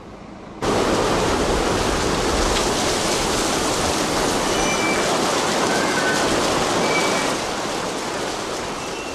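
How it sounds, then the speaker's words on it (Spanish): Water rushing in to fill an empty river canal lock chamber behind closed gates, a loud, steady broadband roar like a torrent that starts suddenly and holds constant, with no talk. "Desde el control dan presión a la elevación del agua para que se vaya llenando el espacio de este segundo tramo del canal que está vacío."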